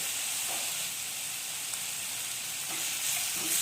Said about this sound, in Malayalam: ഇടയ്ക്ക് സോസേജൂടെ നമ്മളൊന്ന് ഇളക്കി കൊടുക്കണം.